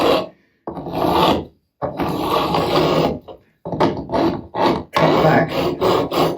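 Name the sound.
beveling block filing fret edges on a Fender Telecaster neck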